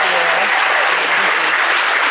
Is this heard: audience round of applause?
yes